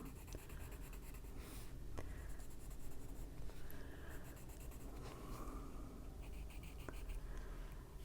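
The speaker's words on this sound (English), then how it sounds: "But on all the white areas, I'm going to put this white pencil." A white colored pencil scratches steadily across paper while filling in white areas of a Christmas Santa coloring page, a soft continuous rasp with small stroke-to-stroke variations and brief pauses, close and alone.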